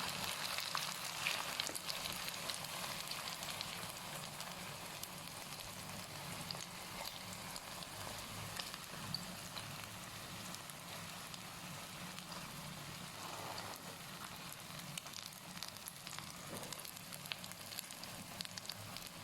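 Thai omelette with holy basil and minced pork fries in hot oil, giving a steady, crackling sizzle that runs unbroken for the whole stretch, moderately loud and close, with no talking.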